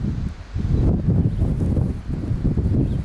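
Strong gusting wind on a hillside buffets the microphone outdoors, a loud, continuous low roar with irregular surges and no talk.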